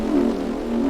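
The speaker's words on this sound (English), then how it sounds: "and then there's this really dark Reese bass that everyone knows how to make." Dark Reese bass synth patch made in Serum, a thick, buzzing low drone held steady and loud for about a second with no other sounds.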